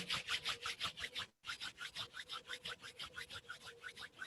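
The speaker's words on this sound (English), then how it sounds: "Stick your hands in front of your heart, rub them against each other" A pair of hands rubbing briskly against each other, a close, soft rhythmic swishing of many quick strokes with one brief pause, faint and alone.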